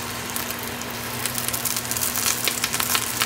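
Food fries in hot cooking oil with a dense, steady hiss up close, while sharp little pops and crackles grow more frequent and louder toward the end.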